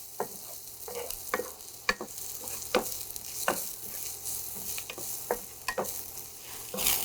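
Onions frying in a pan give off a faint, steady sizzle, broken by repeated scraping clicks of stirring at an irregular rhythm, close and quiet.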